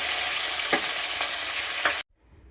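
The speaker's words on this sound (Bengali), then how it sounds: "মাছটা ভাজা হয়ে এসেছে, আর এক পিঠ বাকি আছে, এক পিঠ হয়ে গেছে।" Fish fries in a pan, a steady close sizzle with a few soft scraping stirs, then cuts off abruptly near the end.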